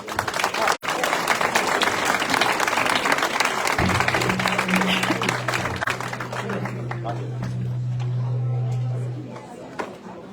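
A crowd at a local library debate held at an American Legion hall applauds warmly for several seconds, the clapping thinning out as a voice and background chatter rise beneath it.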